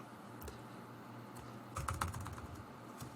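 Typing on a computer keyboard during image editing: a short run of light, close key clicks, sparse at first and then a quick cluster of taps near the end, with no talk.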